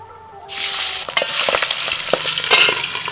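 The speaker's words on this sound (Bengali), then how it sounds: "তেল থেকে ধোঁয়া উঠে গেছে, এবার মাছ ছেড়ে দিচ্ছি।" Pabda fish dropped into smoking-hot mustard oil, breaking into a loud, dense sizzle with sharp spattering pops crackling throughout, close up and with no talking.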